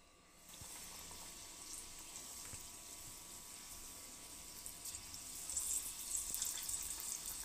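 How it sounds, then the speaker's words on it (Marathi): Methi gota fritters (bhaji) drop into hot oil for deep-frying, giving a steady close hiss and bubbling sizzle that swells slightly louder toward the end. "आपण आता भजी सोडून घेऊ."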